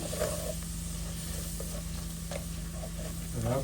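Chopped garlic frying in a pan for a spinach and prawn curry gives a steady, even sizzle that goes on without a break, with a few faint clinks and stirring touches on top.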